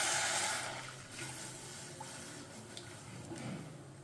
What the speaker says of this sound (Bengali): এই দুধটা আস্তে আস্তে দিয়ে দেব।